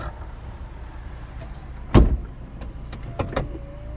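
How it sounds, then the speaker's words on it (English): Electric windows on a BMW 320i M-Sport convertible whir shut, with a sharp thump near the middle and a few short motor and clunk sounds afterwards inside the car, no talking. "I should shut the windows if I keep the button down."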